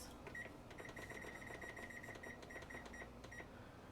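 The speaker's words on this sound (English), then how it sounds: "Gonna set my timer for 15 minutes." Kitchen timer being set for 15 minutes while baking pumpkin twists in an oven; a rapid run of short, high electronic beeps in a loose series, faint against a quiet room with no talking.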